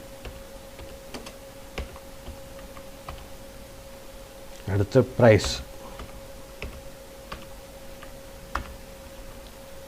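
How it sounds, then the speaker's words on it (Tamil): Someone types text into an Excel spreadsheet on a computer keyboard, with light scattered key clicks and a quick burst of keystrokes midway, while someone speaks quietly over a steady background hum. "இப்போ டெக்ஸ்ட்டை டைப் பண்ணுறேன்"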